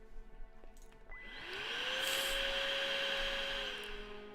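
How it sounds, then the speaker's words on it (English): Vacuum cleaner sound effect in a visual novel game, a motor that spins up with a rising whine into a steady loud hum and airy roar, then winds down slightly, heard alone without voices. "She pulled out the vacuum cleaner."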